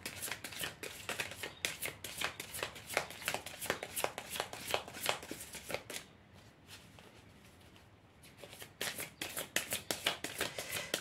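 Tarot cards are shuffled by hand in quick, crisp riffling bursts, fairly close and soft, with a brief pause in the middle before the shuffling resumes.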